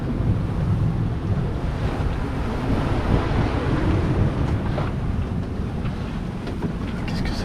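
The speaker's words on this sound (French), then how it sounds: "Ah, il y a des vagues qui passent." Constant rush of waves and strong wind buffeting a sailboat at sea during an ocean crossing from Tahiti to New Zealand, loud and unbroken with a roaring low-end wind noise throughout.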